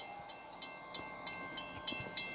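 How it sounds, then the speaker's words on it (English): A freight train hauled by a Ferromax locomotive rolls past, with a steady rumble and regular wheel clicks over rail joints, a faint tone running throughout. "There he is. With a Ferromax locomotive."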